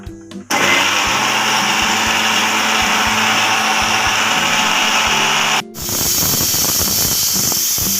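A mixer grinder blends ingredients with cumin for a pumpkin curry, a loud, close, continuous whirring roar that cuts out briefly, then starts again.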